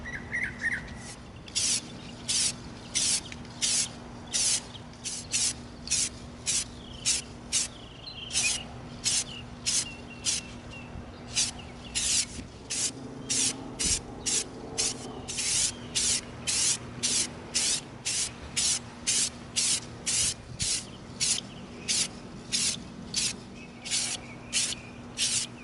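Aerosol spray paint hisses out in rapid short bursts, dozens of quick regular puffs coating an EVA foam Fortnite stink grenade prop outdoors at a spray stand, close and steady with faint birdsong behind.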